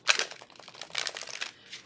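A tarot card deck is shuffled in a quiet room, giving a run of dry papery riffles and soft flicks, close and fairly faint, with no voices.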